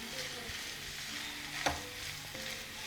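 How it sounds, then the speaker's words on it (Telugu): Chilli fried rice being stirred and tossed in a hot pan, a steady close sizzle with soft scraping strokes and one sharper clatter partway through, no talk. "ఇప్పుడు మొత్తం మంచిగా మిక్స్ చేసేయాలి"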